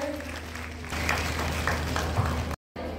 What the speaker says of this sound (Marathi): जोरदार टाळ्यांचा हा गजर